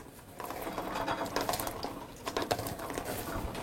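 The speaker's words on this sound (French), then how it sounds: "Donc ensuite on presse les citrons." Lemons squeezed in a juicer while making lemon sorbet give a close, steady mechanical grinding and clicking, with ratchet-like creaks rising and falling over several seconds.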